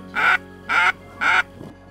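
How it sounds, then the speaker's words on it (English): Ducks quacking over a wetland during a duck hunt, three loud, evenly spaced quacks close by, followed by a fainter fourth call. "We have ducks coming in from the left."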